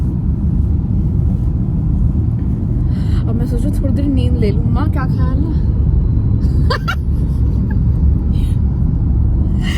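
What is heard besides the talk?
car interior driving with air conditioning running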